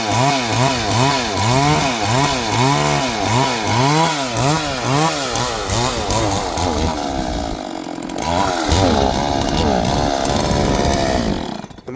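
A gasoline chainsaw cutting through thick wood, loud and close, its engine note rising and falling rhythmically under load before settling into a rougher, steadier roar.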